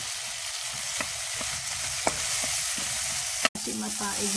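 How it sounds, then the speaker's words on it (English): Ground pork with salt sizzling steadily in a pan, a dense close frying hiss throughout, broken by a few light stirring scrapes and one short clatter of the utensil. "we're going to add the baboy or the ground pork with the salt"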